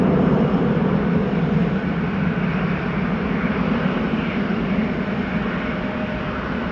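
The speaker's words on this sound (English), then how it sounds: "hearing a BizJet taking off from runway 22." A business jet takes off from runway 22 at Amsterdam Schiphol Airport, a loud, continuous roaring engine rush that holds steady and slowly eases without any breaks.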